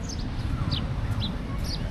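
Small caught birds kept for sale on a city street in Kampot give a few short, high chirps, spaced about half a second apart over a steady low rumble of outdoor background noise.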